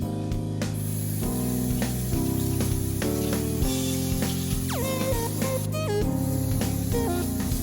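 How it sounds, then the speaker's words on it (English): An apple is washed under running water, a continuous splashing hiss from the tap that holds steady with background music playing underneath, and no voices. "we're gonna wash the apple"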